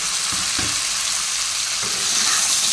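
Ridge gourd goes into a hot frying pan alongside tomato with a steady, loud hiss of sizzling oil, and a few soft clunks of stirring sound under the continuous frying noise.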